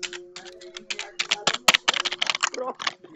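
Computer keyboard typed on hard and fast, a dense run of loud, irregular clacks and key strikes, with a voice talking over parts of it.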